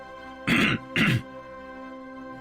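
Two quick, harsh throat clearings in a row, close to the microphone, followed by quiet.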